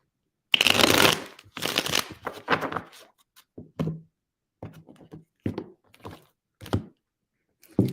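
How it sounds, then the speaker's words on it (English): Tarot cards are shuffled close up: a loud riffling burst at first, then a series of separate soft taps and thuds as the deck is handled and squared, with short silent gaps between them. "Give them a shuffle"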